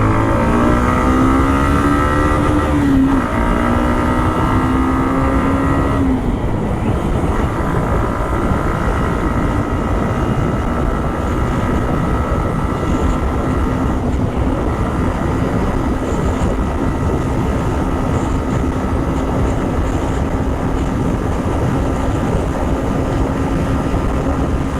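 A Suzuki Intruder 150 BS6 cruiser motorcycle drones loudly and continuously under throttle, its engine pitch climbing then holding steady over strong wind noise while riding.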